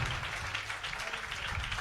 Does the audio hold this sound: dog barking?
no